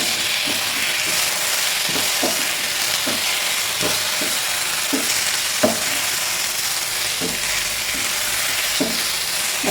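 Chopped tomatoes sauté in a pan with ginger-garlic paste for an egg curry, giving a steady close sizzle and hiss broken by regular soft knocks of stirring, with no voices.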